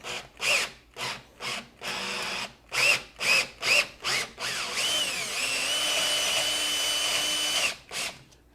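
A power drill enlarges a hole for a threaded insert to just over 3/8 inch, working in short bursts of whirring and chattering, then one longer steady grind before a final brief burst, close and fairly loud.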